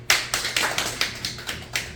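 Applause at a Korean community meeting as a company director is introduced: a steady run of about eight evenly spaced, fairly sharp claps at a quick, regular pace, with no talking over them.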